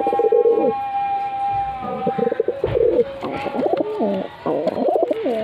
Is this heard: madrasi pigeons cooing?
yes